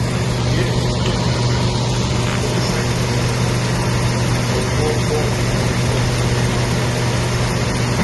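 A Chevy Silverado Z71 truck with a newly replaced engine idles close by, a steady low rumble with a slightly uneven, shaky running note throughout.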